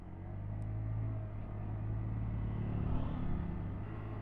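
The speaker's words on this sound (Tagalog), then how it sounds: "Ayan oh, hirap na hirap yung tricycle." A tricycle's small engine labors up a steep mountain road, giving a continuous low droning rumble at moderate distance that swells slightly and holds steady under strain.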